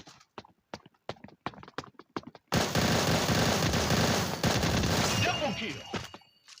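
Pistol fire in the shooter game Bullet Angel: someone talks briefly, then dense rapid gunshots burst in loud and continuous for several seconds before trailing off.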